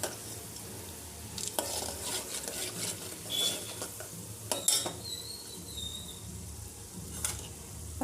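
Green chillies, onion and curry leaves fry in a pan for upma, with a steady low sizzle broken by scattered sharp scrapes and clinks of a spoon stirring against the metal.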